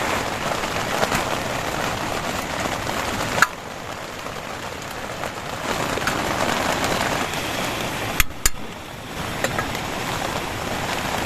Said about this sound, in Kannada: ಈಗ ಮಳೆ ಬರ್ತಾ ಇದೆ ಸ್ನೇಹಿತರೆ